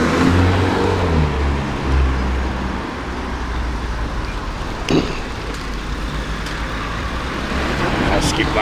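Steady road traffic rumble from a car on a road, continuous and fairly close, with passing vehicle noise swelling and fading throughout.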